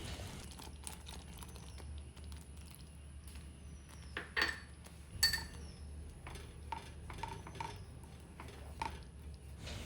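Jackfruit halwa thickened with cornflour slurry is stirred in a pan, a spoon scraping and softly clinking against the metal in an irregular, quiet rhythm with no talking.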